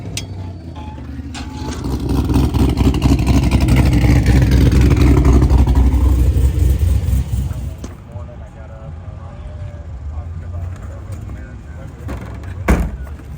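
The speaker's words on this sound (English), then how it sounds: "First time JC taking off in the GTO Solo though." A Pontiac GTO pulls away on the way to a car cruise-in, its engine swelling into a loud, sustained roar that peaks mid-pass, then fades to a lower rumble as the car recedes, with people talking nearby.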